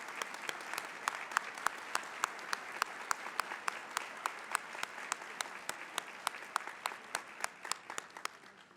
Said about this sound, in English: So Linda, could you please stand up so we can applaud you and thank you for being a role model